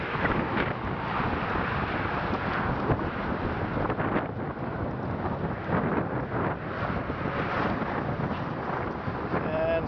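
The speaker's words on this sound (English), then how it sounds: "A little windy up here." Steady wind buffets a microphone high up on an articulating lift above a wrecking yard, a constant broadband rush with small surges throughout and no clear pauses.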